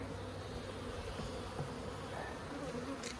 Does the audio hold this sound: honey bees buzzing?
yes